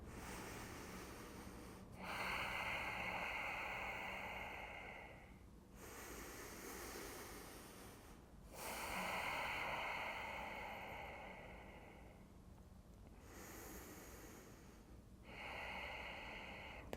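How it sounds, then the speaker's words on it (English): Slow, deep breathing during a yoga pose, soft drawn-out breaths coming and going in a steady rhythm of about four long cycles, close and quiet with no talking. "Let's take a few more breaths here."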